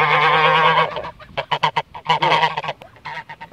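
Geese honk loudly and close by, a long sustained call followed by a rapid series of short, overlapping honks.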